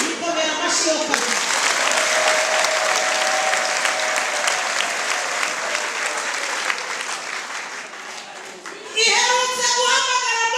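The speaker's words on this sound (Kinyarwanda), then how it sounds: "Ikomera amashyi yo kabiri." Sustained, dense audience applause from a large crowd at a gathering, loud and steady for about nine seconds before fading as voices resume.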